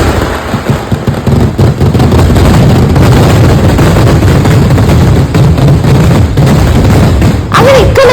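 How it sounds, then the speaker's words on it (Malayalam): A festival fireworks display booming and crackling continuously at close range, loud and relentless with overlapping bursts and a sharp whistle near the end. "നമ്മളെ അങ്ങനെ വെടിക്കെട്ട് തുടങ്ങിയിട്ടുണ്ട്"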